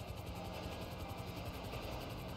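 A helicopter engine in a crime video game whines and thrums steadily with rapid rotor chop, alone and fairly faint throughout.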